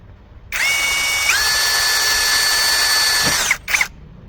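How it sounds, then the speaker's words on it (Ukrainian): Grosser GCD 520Q cordless drill spinning a thin bit, a loud steady whine for about three seconds that steps up in pitch partway through, stops, then gives a brief second burst. "Сверло з Аліка і спробуємо, як воно буде сверлити і чи втримає його патрон."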